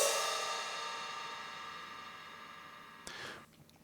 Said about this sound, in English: I started off with the cymbals from my drum kit